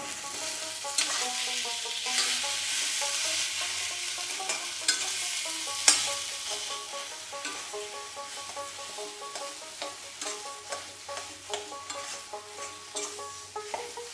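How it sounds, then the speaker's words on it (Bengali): Potatoes just added to fried onions in a pan sizzle steadily up close, with repeated stirring scrapes and spatula clicks over a continuous frying hiss, no talk. "আমাদের পেঁয়াজটা ভাজা হয়ে গেছে, এবার এতে আমরা যে আলুটা সেটাকে দিয়ে দিলাম"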